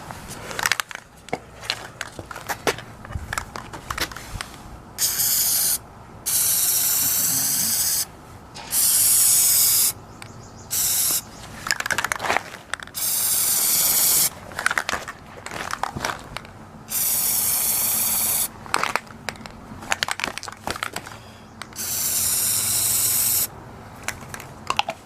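Aerosol spray paint hisses onto an airsoft gun in a home setting, in repeated close bursts of one to two seconds separated by short pauses, with the can rattling and clicking between sprays.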